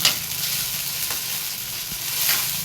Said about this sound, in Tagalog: Hanggat nagisa yung sardinas.